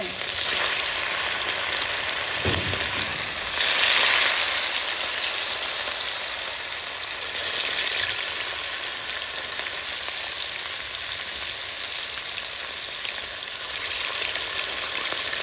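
Onions fry in hot oil alongside pieces of katla fish, producing a dense, continuous close sizzle with occasional stirring bursts and swells.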